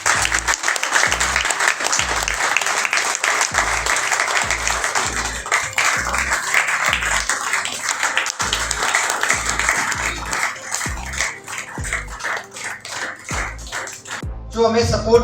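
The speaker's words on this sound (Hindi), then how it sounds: "तालियां बजती रहनी चाहिए." Sustained applause from an audience at a first-anniversary business celebration in Kolkata, steady and fairly loud throughout, with rhythmic low thumps and music-like tones running underneath.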